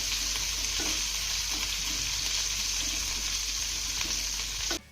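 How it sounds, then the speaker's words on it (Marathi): Chopped onion sautés with garlic in a pan, giving a constant close sizzle with a few soft stirring scrapes. The sound stops abruptly at the end, and nobody speaks. "आता हा कांदा आपल्याला हलका मऊसूत होईपर्यंत परतून घ्यायचा आहे."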